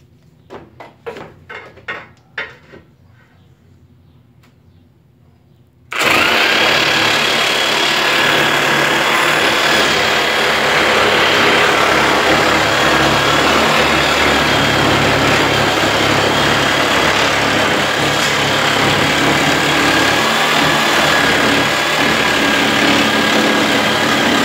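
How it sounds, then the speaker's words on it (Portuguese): A Skil 4550 jigsaw cuts wood straight along a guide, starting abruptly after a few quiet clicks and then holding a loud, steady, buzzing whine close up for the rest of the clip. "Ela cortando agora, coloquei a guia aqui já, vamos ver se ela corta reto."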